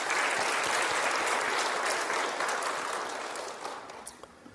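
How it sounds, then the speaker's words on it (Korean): An audience at a church talk gives a long round of applause in honour of a late missionary. The clapping is dense and loud, then thins out and fades to scattered claps by the end. "하늘나라에 계시지만 감사하는 마음으로 박수 한번 보냅시다"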